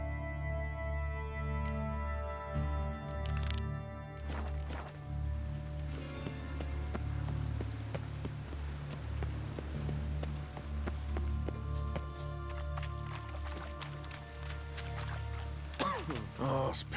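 Rain falls steadily in the video game The Witcher 3, a continuous hiss over low droning ambience with scattered soft impacts, heard alone at moderate level.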